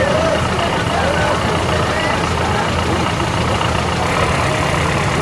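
A tractor rolls past in a harvest festival parade in Blodelsheim, its heavy engine a steady, loud low rumble with outdoor crowd noise and a commentator talking over it.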